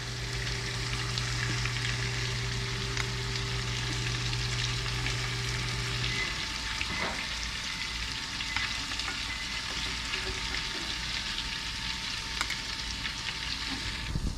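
Fish fillets, speckled trout or redfish, cooking in butter in a pan, giving a loud, constant, close sizzle that holds steady throughout, with a low steady hum in the first half.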